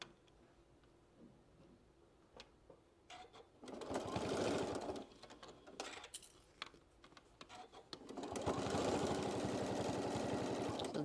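A sewing machine stitches around the edge of a bucket hat in two loud, steady bursts of whirring, with quieter ticking and handling sounds between them.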